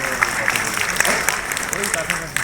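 Applause at a Teachers' Day school award ceremony honouring students and teachers, dense overlapping claps from a crowd, moderately loud and steady, with voices murmuring underneath.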